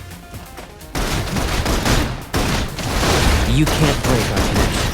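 Heavy suppressing gunfire in the video game Love and DeepSpace rattles in dense rapid bursts, loud and continuous after a short pause, with a voice speaking briefly over the barrage.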